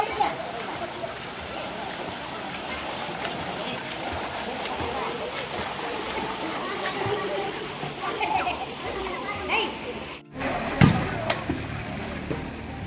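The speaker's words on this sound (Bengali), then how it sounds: "এবার কিছুক্ষণ ছেলে এখানে সাঁতার কাটলো" A child splashes and swims in a hotel swimming pool at a sea-facing hotel in Puri, with a steady wash of water sloshing and splattering close by. Brief louder splashes come near the end.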